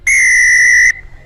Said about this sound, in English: Our referee, Jake Winkler, with the whistle.